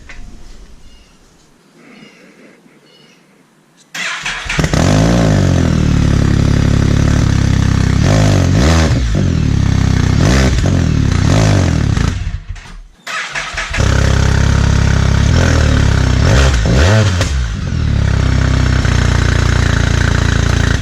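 Can-Am Spyder F3/S engine fitted with a Two Brothers exhaust starts after a few quiet seconds, then runs loud and close with throaty idle and repeated sharp revs, briefly cutting out before starting again and revving on.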